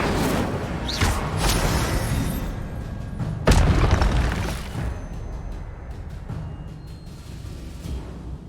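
Incendio fire spell cast in the Hogwarts Legacy video game, a deep rumbling boom with a sharp burst near the middle over a dense, roaring game soundscape that fades gradually.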